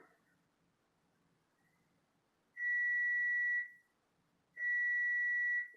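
Cooking timer going off as dinner nears ready: two loud, steady, high-pitched electronic beeps, each about a second long and separated by a pause, over faint low background noise.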